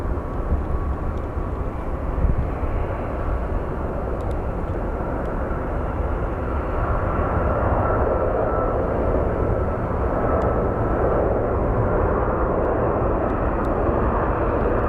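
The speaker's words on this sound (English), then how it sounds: "We're gonna get a landing on 25 right coming up." An airliner landing on runway 25 right at Phoenix Sky Harbor airport, heard as a steady, loud engine roar that holds without a break throughout, with no talking over it.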